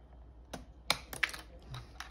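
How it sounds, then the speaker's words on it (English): Keys being pried off a Lenovo ThinkPad P52 laptop keyboard, a few small sharp plastic clicks and snaps spaced out in a quiet room, close up. "let's remove these keys."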